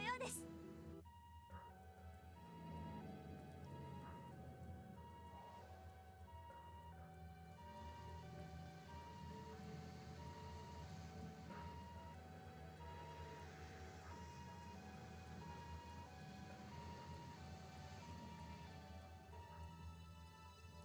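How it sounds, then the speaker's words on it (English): Ambulance sirens wail in a city scene from the video game The Legend of Heroes: Trails to Azure. Their repeating tones sit under game music and sound effects, and a voice speaks at the start. "Were those ambulances just now?"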